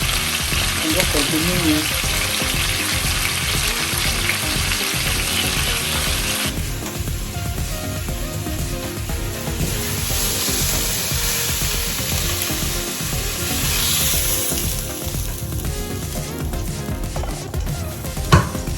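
Smoked fish fries in oil with a loud, steady crackling sizzle that goes on throughout, joined by a few clinks from utensils and a brief word of speech near the end.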